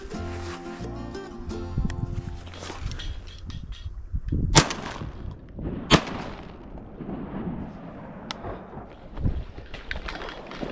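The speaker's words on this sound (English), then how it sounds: "I think I'm gonna shoot him because we're getting kind of close." Shotgun shots at a widgeon drake during a late season duck hunt, several sharp loud reports spaced a few seconds apart, outdoors, with wind and rumbling noise between them.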